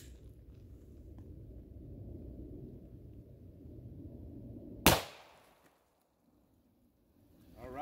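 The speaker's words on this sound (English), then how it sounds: "let's shoot another one with the Glock 40" A Glock 40 pistol in 10mm fires a single Browning X-Point 180 grain round outdoors with a sharp, loud crack that decays quickly into near silence. Steady low wind or ambient rumble comes before the shot.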